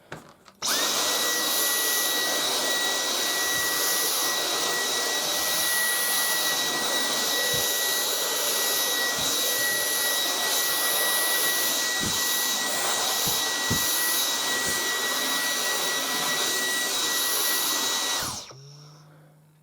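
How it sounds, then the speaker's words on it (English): A Dyson V10 Total Clean cordless vacuum cleaner running at full power on a bed, a loud steady high-pitched whine and rush of airflow held for about eighteen seconds with small bumps, then winding down. "let's go with full power and really suck up the dirt"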